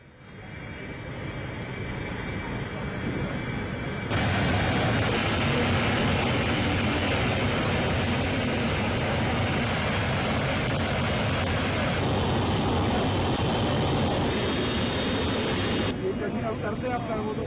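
The Antonov An-225 Mriya cargo plane, with six turbofan engines, lands in Hyderabad with a loud, sustained roar of jet engines that swells and holds, then eases slightly near the end.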